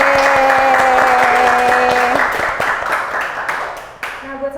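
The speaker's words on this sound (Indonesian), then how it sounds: "Mari kita beri tepuk tangan ya." An audience at a student financial education event applauds in a burst of clapping over sustained musical tones, loud at first and then thinning out and fading as the music drops away.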